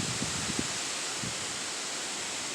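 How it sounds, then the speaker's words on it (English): Heavy rain driven by gusty wind during an early-morning thunderstorm, a steady close hiss with a few soft low thumps near the start and no talk. "that precipitation's getting a little bit heavier"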